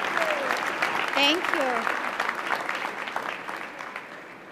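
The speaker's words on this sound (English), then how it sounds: "Let's give them a big round of applause." An audience at a commencement ceremony claps steadily in a broad wash of applause, with a voice speaking briefly over it.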